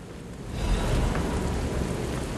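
Steady rain in the video game Lies of P, a dense even wash of falling water with a low rumble underneath, continuous and fairly loud, no voices.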